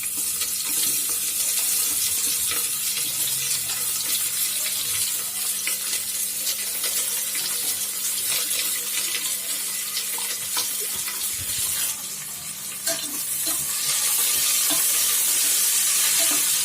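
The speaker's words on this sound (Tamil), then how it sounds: "இப்போ கட் பண்ணி வச்சுருக்கிற ஆனியனை நம்ம ஆட் பண்ணிக்கலாம்." Chopped onions frying in a home pressure cooker for biryani, a steady crackling sizzle with occasional stirring scrapes, close and continuous, briefly dipping near the end, no talk.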